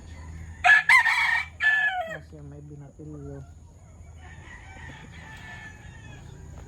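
Chickens cluck and a rooster crows nearby, with a few short squawks and calls; a person speaks briefly among them.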